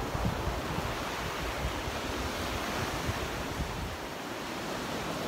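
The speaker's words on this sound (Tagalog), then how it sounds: "Now it's a little bit windy today. That's why there's a big wave" Ocean waves breaking at a white sand beach on a windy day: a continuous broad roar of surf mixed with gusting wind buffeting the microphone, loud and steady throughout.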